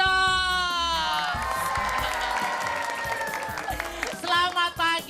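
A studio audience applauds on an Indonesian TV show. Steady clapping and crowd noise run throughout, with tonal voice or music layered over it and a few louder bursts near the end.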